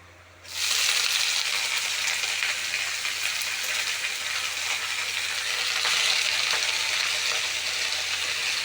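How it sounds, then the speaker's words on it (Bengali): Mustard greens dropped into hot oil with fried garlic and dried red chilli, bursting into a loud, steady sizzle that holds evenly after a sudden start, with no talking. "তো এখানে আমার রসুন শুকনো লঙ্কা লাল লাল করে ভেজে নিয়েছি এবার আমি এতে দিয়ে দেবো শাকটা"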